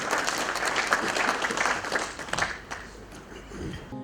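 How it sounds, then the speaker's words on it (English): Audience applause fills a hall at an engineering iron and steel association's 80th anniversary celebration in Zimbabwe, a dense, steady clatter of many hands that eases off toward the end. "Can we give ourselves a good round of applause?"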